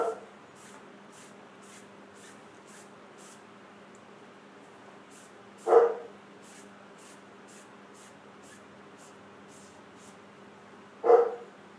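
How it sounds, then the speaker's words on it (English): A dog barks indoors, two sharp single barks spaced about five seconds apart, fairly loud against a quiet room with a faint hum and light rhythmic ticking. "I gotta let my dog in."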